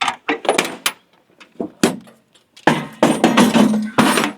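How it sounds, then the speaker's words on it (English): A metal toolbox is set back onto a stack of boxes in a workshop, producing a few sharp close knocks and clanks followed by a longer rattling scrape and settling thud. "toolbox back in the stack"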